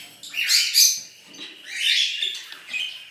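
An opaline male parakeet and a lancewing female give bright, scratchy chirping calls in two or three close bursts with short pauses, loud and near, with no voices.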